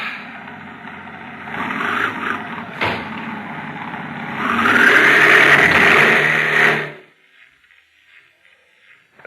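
A car pulling away, a steady engine hum that swells louder for a couple of seconds before cutting off abruptly into near silence.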